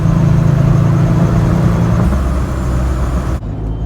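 A Ripp supercharged Jeep Wrangler JK with a 3.8 engine pulls hard in second gear, a loud continuous engine roar from inside the cabin that dips briefly near the end as it shifts.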